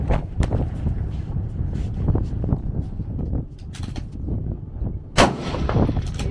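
Rifle shots at an outdoor precision rifle match, several sharp reports with rumbling echoes under wind noise and background birds, with one especially loud crack near the end.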